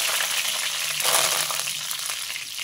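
Cumin seeds and curry leaves sizzle in hot oil while a taro tamarind curry gets its tempering; a steady, close, dense crackle runs throughout with no talking.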